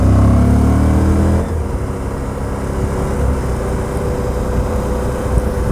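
A Suzuki V-Strom 1000 motorcycle engine pulling in third gear around 4000 RPM, a loud steady droning roar that shifts pitch partway through and then holds an even, rumbling tone.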